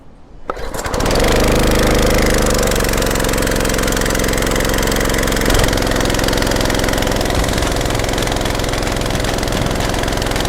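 A small gasoline multipurpose engine is pull-started after its switch is turned on, catches almost immediately and settles into a loud, steady, rattling run close by.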